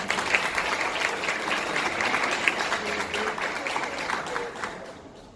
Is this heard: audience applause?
yes